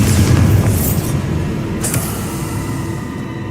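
A Bombarda spell explosion in the video game Hogwarts Legacy, a loud low boom that rumbles and fades, with a second whooshing burst partway through.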